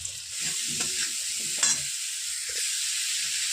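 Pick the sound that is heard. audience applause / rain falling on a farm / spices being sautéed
spices being sautéed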